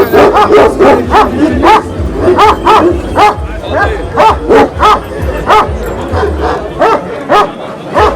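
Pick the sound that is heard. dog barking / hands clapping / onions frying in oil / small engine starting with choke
dog barking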